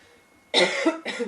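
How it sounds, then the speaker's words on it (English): A single close, throaty cough bursts out, followed by a second shorter one, with near silence just before. "I had to cough."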